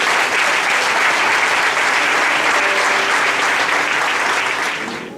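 A congregation applauds during a praise and worship church service, producing loud, dense, steady clapping that carries on throughout and fades slightly at the end.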